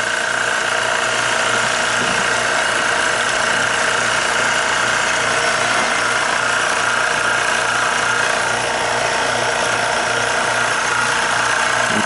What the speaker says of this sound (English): I'm running liquid through it right now. That's what's happening. It's pumping liquid.